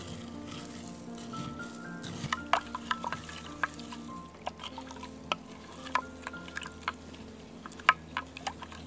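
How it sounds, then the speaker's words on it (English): Hot water being stirred while making homemade magnesium lotion, with soft swirling and intermittent sharp clinks of a utensil against the container, fairly quiet and close. "just gonna give that a stir"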